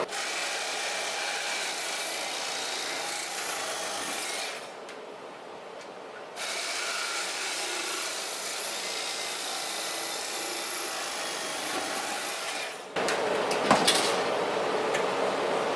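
A mechanical slicer whirs and saws steadily through bread, pausing briefly midway, then starting again with a louder grinding buzz at the end.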